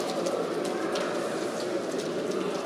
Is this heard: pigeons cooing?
yes